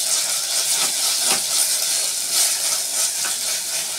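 Ginger garlic paste fries in a pan for a home-style mutton gravy, a continuous close hiss and sizzle with gentle pulses as it is stirred, no voices.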